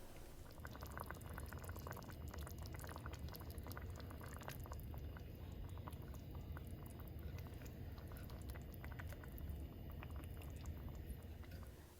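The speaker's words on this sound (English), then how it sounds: "So it'll just simmer for a couple hours." Cincinnati chili sauce simmers on a stovetop over low heat, a steady, soft bubbling and popping that runs continuously without a break.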